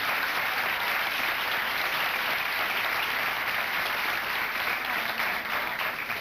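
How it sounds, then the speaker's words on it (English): A studio audience at a daytime talk show claps steadily and densely throughout, a loud, even wash of applause with no break. "I would like to applaud the 2 young ladies on the left and Donna."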